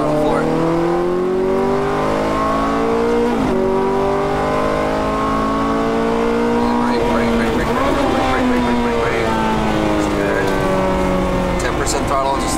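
Ferrari F430 pulling hard at full throttle on a track, the engine note climbing through the revs, briefly dipping and rising again with gear changes, loud and close under an instructor's voice talking the driver through corners.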